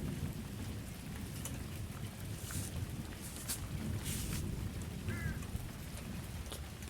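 Steady summer rain pours down through a thunderstorm, a dense continuous hiss close by with low rumbles of thunder rolling underneath and a few brighter splashes, no talking.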